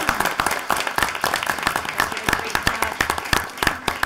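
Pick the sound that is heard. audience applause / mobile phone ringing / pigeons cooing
audience applause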